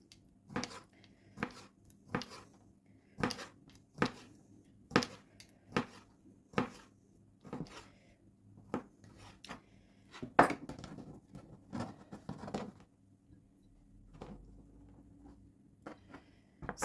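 Sausage is cut into slim slices on a cutting board with a knife, making a series of crisp, evenly spaced taps at close range that grow quicker and denser toward the end, with no talk.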